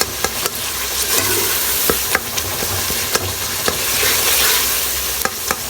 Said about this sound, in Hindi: ये देखें चम्मच के इसके पीछे से हम भूनते जाएंगे और इसको साथ में मिक्स करते जाएंगे।